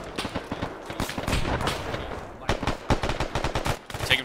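Rapid bursts of video game gunfire from Operation Homeland crackle loudly and close, with dense automatic volleys, a short lull, then more clustered shots.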